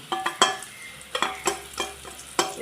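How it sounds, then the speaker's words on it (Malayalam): Onions and green chilies sautéing in a pan with turmeric and pepper powder, heard as a steady sizzle broken by repeated scraping stir strokes, close and fairly loud with no talking. "അതിൻ്റെ ആ പച്ചക്കൂട്ട് മാറുന്ന വരെ ഒന്ന് നമുക്കൊന്ന് വഴറ്റി കൊടുക്കാം"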